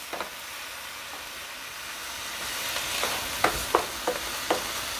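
Quail and sautéed onions sizzle steadily in a pan, with a run of sharp clattering stirs near the end and no talking.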